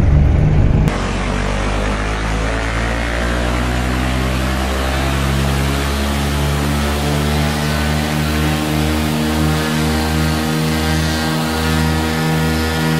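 Twin piston engines of a Cessna Skymaster roar at full throttle on the takeoff roll, a loud, steady drone with strong low harmonics that holds alone for the whole stretch.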